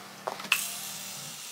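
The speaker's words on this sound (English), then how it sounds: "I'm gonna go in with the Morphe Continuous Setting Spray." Morphe Continuous Setting Spray misted onto a face: a couple of soft clicks, then a sustained airy hiss that starts halfway through and runs steadily to the end, close and fairly quiet.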